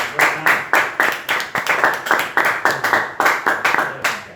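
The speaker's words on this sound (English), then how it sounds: "Give her a big round of applause." A classroom of students claps for a classmate, a short burst of rhythmic, evenly spaced claps close by, roughly a dozen sharp beats in steady succession.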